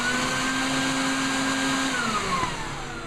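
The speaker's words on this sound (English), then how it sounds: "This is actually a duct fan, and it blows a lot of air." A cheap Home Depot duct fan, wired into a homemade oversized exposure unit, blows a steady, loud broadband whoosh with a constant hum, its pitch sagging slightly near the end as it spins down.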